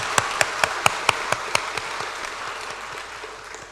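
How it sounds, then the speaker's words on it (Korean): Church congregation applauding after a lay believers' faith rally thank-you, a burst of clapping with sharp claps early that thins and fades into a softer patter over a few seconds. "박수하겠습니다."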